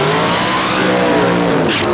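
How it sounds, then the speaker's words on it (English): A front-engine dragster roars loudly through a tyre-cleaning burnout at a drag racing meet, its engine a sustained harsh howl with tyre squeal, close and continuous throughout. "It's a front engine dragster."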